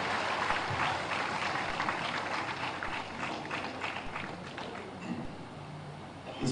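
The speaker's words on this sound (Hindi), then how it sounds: "तालियों की गड़गड़ा के स्वागत कीजिए हम सब" A crowd applauds to welcome the chief minister to the stage at an Uttarakhand event, a steady broad wash of clapping heard from a distance that holds for several seconds.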